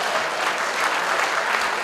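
An audience breaks into thick, continuous applause, many hands clapping together in a steady wash of sound throughout the short moment.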